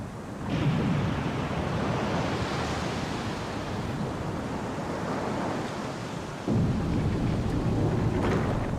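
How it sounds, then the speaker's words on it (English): Water drains from a courtyard fountain in the Resident Evil remake, a loud, steady broadband rush with a brief dip then a renewed surge near the end, with no voices over it. "This drains the water."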